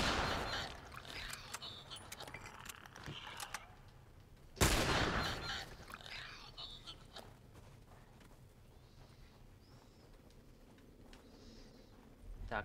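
Gunfire during combat in the video game The Last of Us Part I, with one sharp loud shot standing out amid a busy game soundscape of scattered impacts and movement, under occasional talk.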